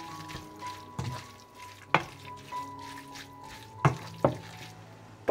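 Cabbage frying in a pot with bay leaves, dry seasoning and a splash of water, stirred with a utensil: a steady soft sizzle broken by several sharp scraping clatters against the pot, close by, with no talk.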